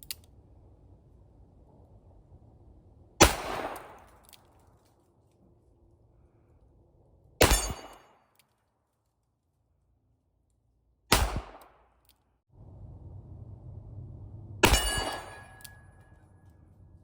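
Four sharp, loud shots from a Smith & Wesson Model 10 revolver fired single action at an outdoor range, each a crisp crack with a brief ringing tail, spaced a few seconds apart over quiet background.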